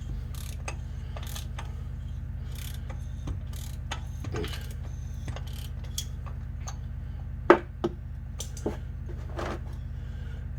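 A ratchet on an oil filter socket loosens the oil filter of a Toyota RAV4, giving soft irregular clicks over a steady low hum, with a few sharper metallic knocks near the end.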